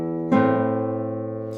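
A single chord on a classical guitar, plucked once and left to ring with a slowly fading sustain, close and alone.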